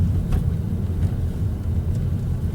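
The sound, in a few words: car engine in third gear at 1100 RPM, manual 6-speed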